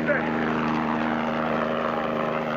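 A helicopter flies nearby with a steady, continuous rotor and engine drone that holds an even loudness throughout.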